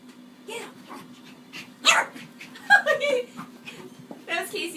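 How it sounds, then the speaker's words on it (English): Dogs bark and yip in short bursts around the house, close and fairly loud, mixed with a person talking over them. "That was Casey barking that time."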